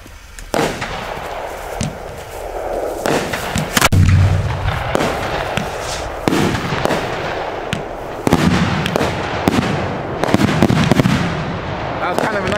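A 4-inch euro cylinder firework shell, a peony with salutes, goes off: a series of loud bursts and sharp reports crackling outdoors, with people talking throughout.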